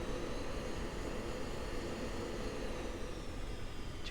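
A jet aircraft lands in the Falcon BMS flight simulator with a steady broadband engine roar and rushing air, loud and constant throughout, with no voices.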